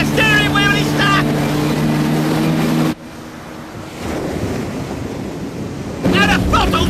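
Motorboat with a stuck throttle speeding out to sea: a steady roar of engine and rushing water with wind buffeting, loud and close, with voices at the start and end of the passage.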